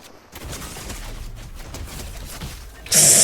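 Rapid gunfire in Fortnite Zero Build, a steady burst of shots running for about three seconds and then jumping to a louder, harsher blast at the end, with no talking.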